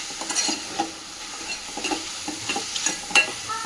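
Village-style mushroom curry stirred in a pan, a quiet sizzle broken by repeated spoon scrapes and clinks at an uneven rhythm, close up and without talk.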